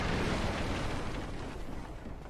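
A fire bomb bursts in Dark Souls Remastered within the Upper Undead Burg, a dense, roaring blast rumbling continuously for a couple of seconds, steady and fairly loud before easing slightly toward the end.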